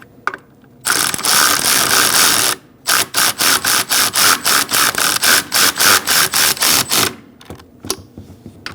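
A ratchet wrench tightens bolts on the intake manifold of a 2008-2014 Mercedes-Benz C300 3.0L V6, first a long burst of clicking, then a rhythmic run of quick ratcheting strokes, close and loud, with no talk.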